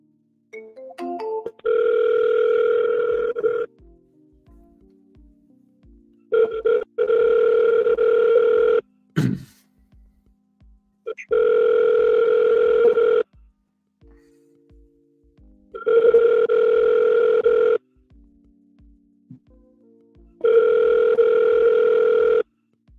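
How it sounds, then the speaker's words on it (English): On an outgoing phone call, a ringback tone sounds in five long evenly spaced bursts, each about two seconds with gaps between, clear and alone over a faint ticking line. "now we're gonna call Melissa"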